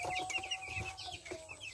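Chicks in a cage peeping close by, a dense flutter of thin, high, overlapping chirps throughout.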